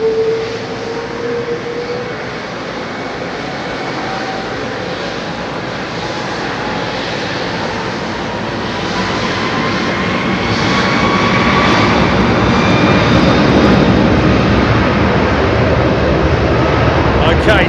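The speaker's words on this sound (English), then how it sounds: "Okay, take off thrust set." Jet airliner taking off at Heathrow Airport: a powerful engine roar builds gradually with rising whine tones, growing louder toward the end as thrust increases, with faint talk underneath.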